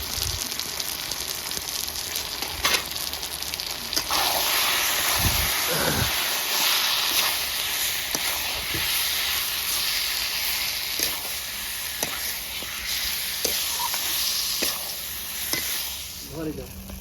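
Chicken with salt, turmeric, cumin, coriander and chili powder sizzles steadily in a pan while being stirred, with occasional scrapes and clinks of a utensil over a continuous frying hiss.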